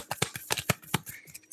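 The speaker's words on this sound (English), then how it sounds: "Let's shuffle the cards as well." A deck of tarot cards is shuffled in quick riffling bursts, a series of crisp rapid flutters close to the listener, with a brief pause near the end.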